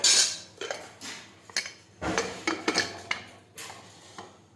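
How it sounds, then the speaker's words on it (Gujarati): Metallic clanks and clinks of a pressure cooker lid being handled and shut, several sharp knocks spaced irregularly, close by with no talk. "હવે આપણે કુકરનું ઢાંકણ છે તે બંધ કરી દઈશું"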